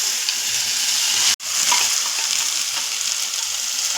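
Ground cashew masala paste tipped into hot oil with whole spices, a loud, close frying sizzle that cuts out abruptly for an instant, then bursts back and keeps hissing steadily while being stirred.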